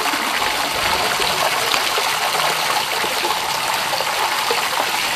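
Dirty water gushing steadily out of a homemade water filter at a hidden creek, a continuous loud broadband splashing stream that holds without a break throughout.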